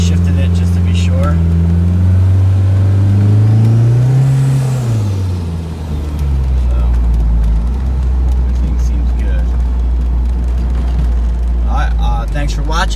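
A 2g AWD DSM car drives after a transmission valve body install, its engine a steady low drone close by. The pitch swells and dips midway, then settles into a heavier, constant rumble.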